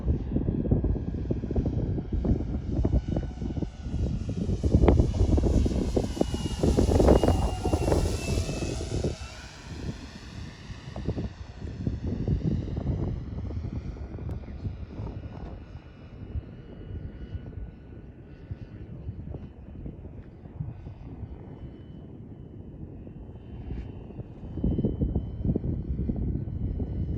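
A 107-inch VQ/Nexa RC Pilatus PC-6 Turbo Porter flies overhead, its engine droning loud as it passes close with a pitch sweep, then fading into the distance before building again.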